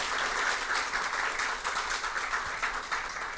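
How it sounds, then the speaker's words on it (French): Audience applause for the Lycée National de Cité-Soleil team at a school quiz competition, a dense, steady wash of many hands clapping throughout with no one speaking. "Je vous demande de l'applaudir."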